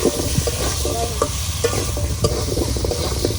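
Fish fries in a pan in a village kitchen, with a steady sizzle under frequent scraping stirs of a utensil against the pan, close and fairly loud.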